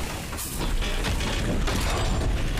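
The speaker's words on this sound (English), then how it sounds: "Chain reaction explosion" A chain of explosions in a Star Wars Andor battle scene, a dense sustained roar of booms and crashing debris that fills the whole stretch without a break.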